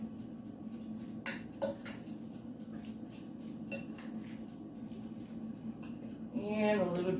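A spoon scraping and clinking against a bowl while canned tuna is mixed with mayonnaise, a few sharp clinks over a steady low background, with a short burst of rustling near the end.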